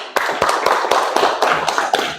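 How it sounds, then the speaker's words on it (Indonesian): A classroom of students claps after a quiz contest, a short burst of sharp, close hand claps with an uneven rhythm and no talking. "Kasih tepuk tangan."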